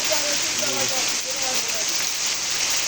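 Heavy rain in a storm at Pakutia Bazar, Nagarpur, Tangail, a steady dense hiss filling the whole stretch, with faint voices and tonal sounds drifting in under the downpour.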